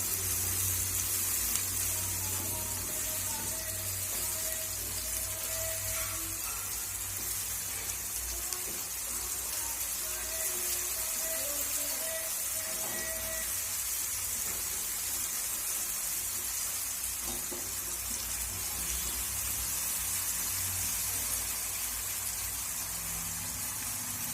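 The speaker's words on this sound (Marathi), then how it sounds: "तेल सुटेपर्यंत हे तळून घ्यायचं।" Masala for a cashew curry frying in oil, a steady hissing sizzle that stays loud and even throughout, with no speech.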